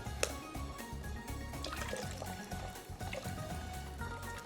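Water and clear chicken broth pour into a preheated pot in a steady, low liquid rush with faint splashes, continuous and fairly quiet, with no talking.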